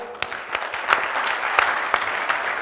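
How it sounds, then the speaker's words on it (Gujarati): Audience applause at a Gujarati poetry event in Godhra, a steady crowd clapping that runs the full length with a few sharper bursts of claps standing out, loud and close, no talking over it. "જોરદાર તાળીઓ."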